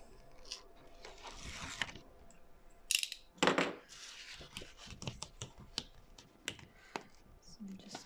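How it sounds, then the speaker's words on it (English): Tape backing peeled and handled while assembling a Prima Darcelle paper folio, close and quiet: scattered crackly snaps and rustles, a couple of sharper bursts near the middle, with faint movement throughout. "I'm just removing both of them now."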